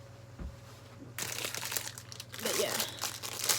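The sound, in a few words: crinkling kitchen tin foil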